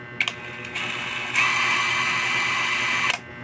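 An INGCO cordless impact wrench with its trigger pressed, giving a steady mechanical whir and whine that runs for about three seconds, starts and stops with clicks, and is heard close up with no talking.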